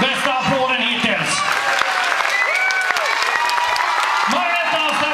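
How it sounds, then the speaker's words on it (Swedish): Audience applause for dancers at a dance club competition final, sustained clapping close by with some cheering filling the whole stretch, a voice speaking over it. "så får ni mottaga bästa applåden hittills"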